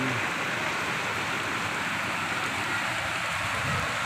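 Heavy rain pouring steadily outside in a thunderstorm near hills, a thick, even roar of drops that stays loud throughout and has no voices.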